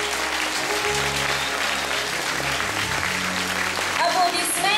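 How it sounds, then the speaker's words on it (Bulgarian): A crowd applauds steadily with dense, sustained clapping, while background music plays underneath, at a ballet school's 55th anniversary stage performance. "Аплодисменти за стария клас."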